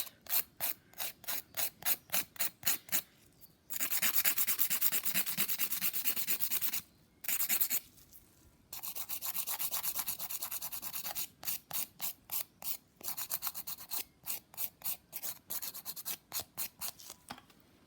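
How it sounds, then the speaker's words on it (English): A 100 grit nail file worked at an angle across a fingernail, rasping in quick rhythmic strokes, then a few longer sustained passes, then short strokes again, close and fairly loud with no talking. "So I'm going to file angled with my 100 side, 100 grit file"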